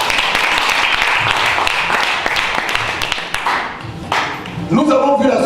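Church congregation clapping and applauding together, a dense, lively patter of hands that fades briefly before voices rise near the end.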